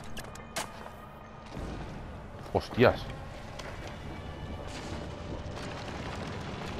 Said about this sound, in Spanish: retírate y dispara al bidón